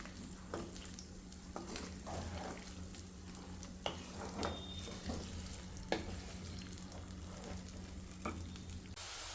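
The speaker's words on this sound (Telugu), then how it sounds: "ఇప్పుడు ఇవైతే కొంచెం గోల్డెన్ బ్రౌన్ కలర్ వచ్చేంత వరకు ఫ్రై చేసుకోవాలన్నమాట పీసెస్." Chicken pieces frying in hot oil until golden brown for chicken pickle, a constant bubbling sizzle with scattered light pops and occasional scraping knocks from stirring, moderately quiet and without talk.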